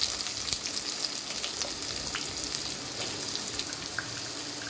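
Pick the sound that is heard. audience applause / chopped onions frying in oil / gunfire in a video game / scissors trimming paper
chopped onions frying in oil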